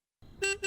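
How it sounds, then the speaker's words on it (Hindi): Two short honks of a car horn outside in quick succession, loud and bright, after a moment of silence. "देखो कोई बाहर हॉर्न बजा रहा है।"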